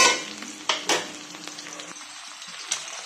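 Onion frying lightly in a pan for chow mein, a soft steady sizzle with a few louder scraping stirs near the start, fading quieter toward the end.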